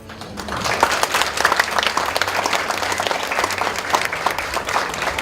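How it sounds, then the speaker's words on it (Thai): A standing crowd at a Thai government retirement ceremony applauds an honoree. Full, continuous clapping holds steady at a moderate level for the whole stretch. "แล้วปรบมือให้ท่านหน่อย"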